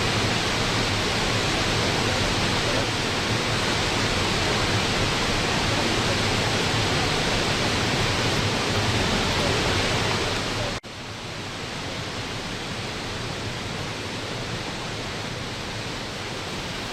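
Kaieteur Falls in Guyana roars with a dense, continuous wash of falling water, loud and unbroken, dropping to a slightly softer level partway through.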